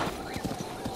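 A horse's hooves clip-clop in a quick, regular rhythm in The Legend of Zelda: Breath of the Wild, several close hoof strikes under a faint whinny-like tone.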